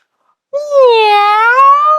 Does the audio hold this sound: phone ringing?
no